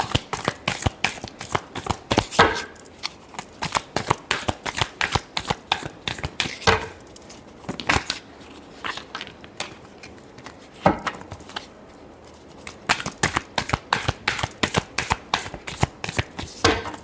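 Tarot cards are shuffled by hand in quick, rapid riffling bursts of sharp flicking clicks, broken by brief pauses, close and fairly loud with no talking.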